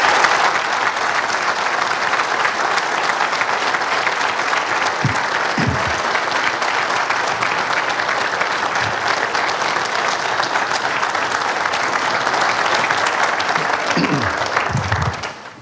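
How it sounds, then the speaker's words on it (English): Sustained audience applause for a city council at a State of the City address, a dense, loud wash of clapping from a large crowd that holds steady for about fifteen seconds before tapering at the end. "Let's give them a big round of applause."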